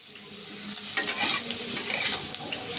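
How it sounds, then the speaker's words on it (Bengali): Diced papaya and potato fry in hot oil in a wok, giving a steady close sizzle that swells louder partway through as the pieces are stirred, with faint clinks of a spatula against the pan. "যে পেঁপে আর আলুটা কেটে রেখেছিলাম ওইটা এখন ভেজে নেব।"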